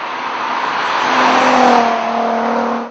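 A Volkswagen R32 MKV engine accelerates loudly and close, its note rising steadily through a DSG gear change and ending abruptly, with no talking.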